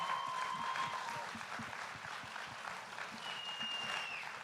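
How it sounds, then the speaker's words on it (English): Panel guests at a justice event receive sustained audience applause, an even bed of many hands clapping with faint tones drifting over it. "Please give them a big round of applause, right?"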